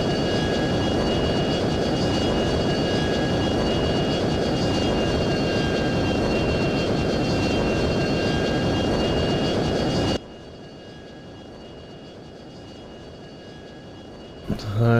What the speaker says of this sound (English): the F22 can super cruise at supersonic speed without using the afterburners